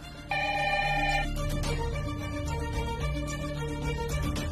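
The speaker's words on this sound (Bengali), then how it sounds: "এত রাতে আবার কে ফোন করলো?" A telephone rings at night indoors, a loud, close electronic ringtone starting just after the first moment and repeating its tonal trill for several seconds with no talk over it.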